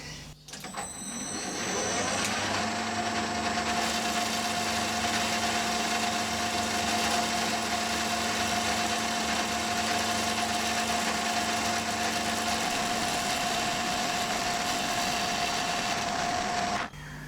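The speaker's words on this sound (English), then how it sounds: "So I'll go ahead and machine this now." A metal lathe cuts a nut, giving a steady, loud mechanical whir with a constant tone that runs for most of the stretch before winding down near the end, with no talk over it.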